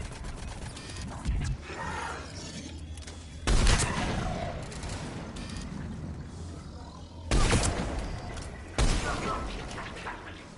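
Gunfire and explosions from fire support in a shooter game, several heavy loud bursts spaced a few seconds apart over continuous rattling battle noise.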